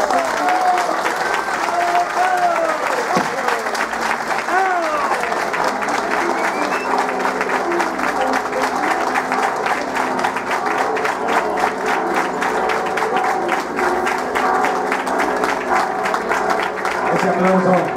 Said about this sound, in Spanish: Ese aplauso, damas y caballeros.